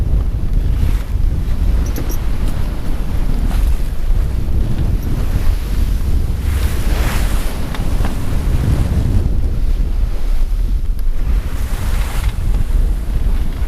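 A sailboat making almost 6 knots on a single-handed passage to the Virgin Islands, with steady loud wind buffeting and waves rushing and slapping along the hull throughout.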